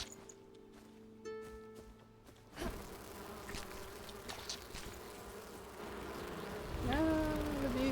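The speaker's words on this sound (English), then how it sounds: "No, the bees are attacking me." Swarm of bees buzzing and attacking in the video game Enshrouded, a faint busy drone with overlapping insect hums that swells louder toward the end, with scattered game sounds underneath.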